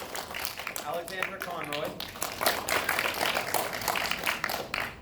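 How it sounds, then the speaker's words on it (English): An audience at a post-premiere Q&A for the film Tethered claps and cheers, giving steady, moderately loud applause that lasts the whole time. Someone speaks into a microphone over it, reading out names. "let's get a round of applause for Jad Ellis, Kristen Terry, Mahela Atkinson"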